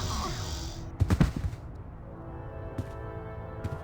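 Gunshots in The Longest Journey: a rapid cluster of sharp, loud shots around the one-second mark, followed by a couple of fainter isolated cracks over a low rumbling background.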